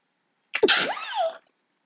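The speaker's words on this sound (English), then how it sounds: "I gotta sneeze" A woman's single sneeze, sharp and close, bursting out of silence with a quick intake and a forceful, breathy release that trails off briefly before quiet returns.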